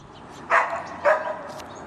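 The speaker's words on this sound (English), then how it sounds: "our dogs are going berserk" Pet dogs barking at an RV campsite at night, two sharp barks about half a second apart, moderately close, over a quiet background.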